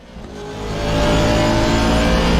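A GT3 race car engine roars up in pitch in a racing video game at Imola, revving hard and loud as it accelerates, with a steady high whine near the end.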